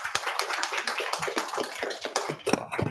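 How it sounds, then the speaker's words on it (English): Audience applause at a Cloud Native London tech meetup, a dense steady patter of many hands clapping throughout, close and fairly loud, with no talk over it. "So round of applause,"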